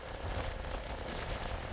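Steady rain falls in a continuous, even hiss on an early rainy morning, with no voices over it.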